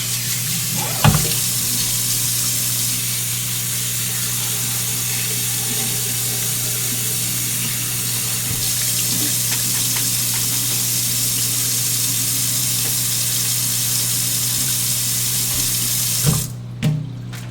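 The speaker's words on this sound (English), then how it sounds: "Run this under water, cold water, of course." Cold tap water runs steadily into a sink as lettuce is rinsed beneath it, a close, continuous splashing hiss with a low hum underneath and a few brief clunks near the start and end.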